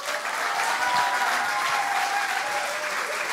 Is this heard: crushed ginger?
no